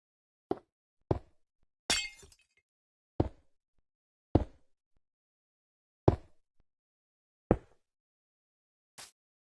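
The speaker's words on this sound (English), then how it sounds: "Now add some glass panes." Glass panes are placed in Minecraft with a string of quiet, crisp clicks and clinks, about eight isolated taps spaced unevenly, a few showing a brief glassy scatter.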